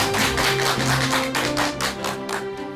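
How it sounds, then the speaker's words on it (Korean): A studio audience applauds to welcome a psychiatrist onto a lecture stage, a dense, steady clatter of many hands clapping together throughout, close and full, with no voices over it. "큰 박수 부탁드립니다."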